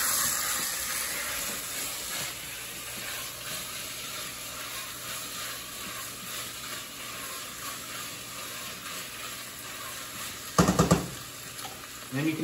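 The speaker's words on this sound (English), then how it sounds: "Give that a good stir. Get everything nice and coated." Chopped vegetables, including pepper, are stirred in a hot pan, giving a soft, continuous sizzle with faint scraping, then a brief louder clatter of the spoon or pan near the end.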